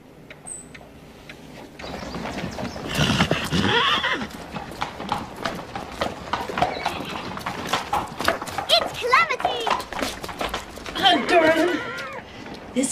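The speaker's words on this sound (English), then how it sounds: "He's the best horse in the show." Horses at a show whinny and clop their hooves, with loud neighs over uneven hoofbeats and people talking throughout.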